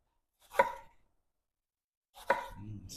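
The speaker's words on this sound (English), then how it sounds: "So I'm gonna rough chop some cilantro to go in here" A knife rough-chops fresh cilantro on a board for garden salsa, giving two separate crisp chops about a second and a half apart, close and clear against near silence.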